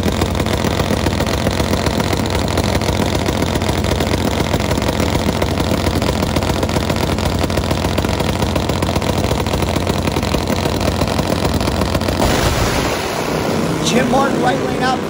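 A nitro-burning Harley drag racing motorcycle engine of about 450 horsepower roars loud and close with a harsh, rapid idle, then cuts off near the end, leaving a few faint clicks.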